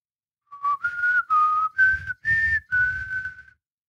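A person whistles a theme, a clear solo melody of about six sustained notes rising and falling over roughly three seconds, close and fairly loud with no talk.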